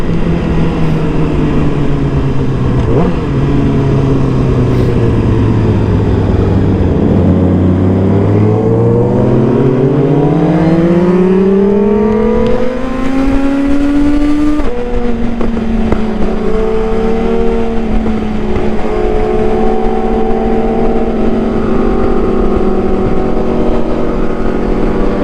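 Suzuki GSXR1000 motorcycle with an SC Project exhaust, loud and close, its engine note dipping then climbing in long rising sweeps as it revs and passes, then holding a high steady drone.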